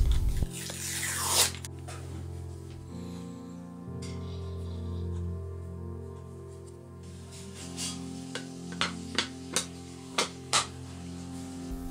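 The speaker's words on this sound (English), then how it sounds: "Table is coated with paper, if you want you can tear it off." Paper is torn off the turntable of a cheap Ciclop 3D scanner: a short, close, rasping rip early on, followed by scattered light clicks and handling noises over a low steady hum.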